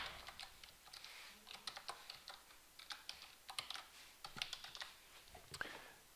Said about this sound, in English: We're going to type that in